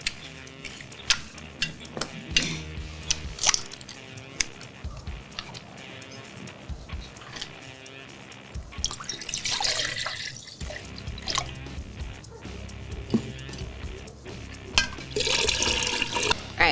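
Orange juice is poured into a pumpkin spice punch. The liquid splashes and trickles unevenly in close, moderately loud bursts, with occasional soft clinks.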